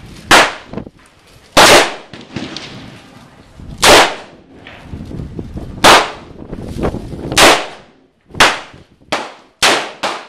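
Sharp, loud single shots from a Ruger SP101 .357 Magnum revolver with a 3-inch barrel, about eight reports spaced irregularly, each with a brief ringing echo in between.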